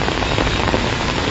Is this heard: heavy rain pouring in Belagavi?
yes